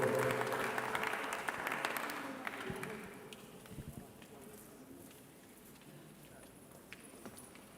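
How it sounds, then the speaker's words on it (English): Audience applause at an International Mother Language celebration in Kenya as the Ilchamus team comes on stage, loud and dense at first, then thinning into scattered claps and background crowd noise. "Let's clap for them even as the Ilchamus team is coming on board."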